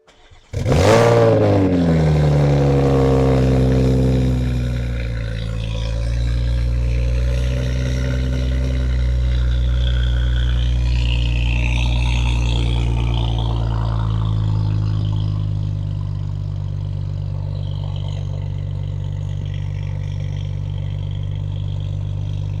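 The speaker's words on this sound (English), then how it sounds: "you heard the Supra, you hear what it sounds like at idle" A Toyota Supra MKV with a 3.0-liter inline-six single-turbo engine cranks and fires with a sharp rising rev, then settles into a loud, steady, deep idle rumble heard close up with no talking.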